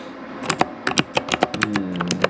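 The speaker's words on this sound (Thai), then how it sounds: "เสียงคีย์บอร์ดอาจจะดังหน่อยนะครับท่านผู้ชม" Quick bursts of keyboard typing, a run of sharp clicks with short pauses, close and fairly loud, with no one talking.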